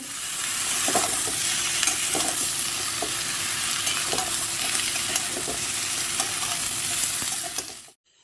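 Chopped winter vegetables and boiled chickpeas frying in a hot wok, a loud, constant sizzle with regular stirring scrapes every second or so, cutting off abruptly at the end.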